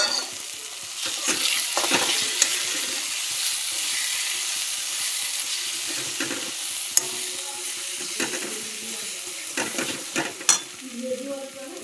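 Ground cumin, coriander and turmeric fry in oil in a pan with a continuous sizzle, and a spoon scrapes and stirs in irregular bursts, close and moderately loud, with no talking.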